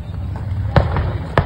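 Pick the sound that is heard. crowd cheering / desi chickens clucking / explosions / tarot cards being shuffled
explosions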